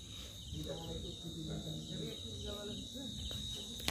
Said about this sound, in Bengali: এখানে ঝিঝি পোকা ডাকছে